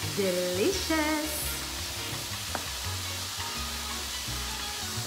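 Beans frying in a pan while being stirred, filling for Mexican-style courgette boats, a steady close sizzle with intermittent scraping of the spoon; no speech.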